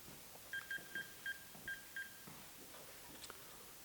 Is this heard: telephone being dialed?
yes